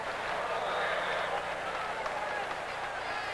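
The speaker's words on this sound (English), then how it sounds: "What a crowd." Large stadium crowd at an RFK Stadium soccer game, a dense continuous roar of cheering and applause, loud and washing steadily throughout, with a commentator talking over it.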